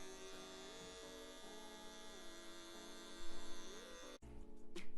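Electric hair clippers cutting a fade haircut, a steady mid-pitched motor buzz with a shifting tone as the blade works, ending in a brief louder rustle and clatter.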